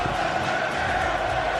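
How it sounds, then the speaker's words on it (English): A dense, roaring darts crowd cheering at a Premier League darts match between Gary Anderson and Robert Thornton, a loud sustained wall of voices with no breaks. "The crowd pumping here."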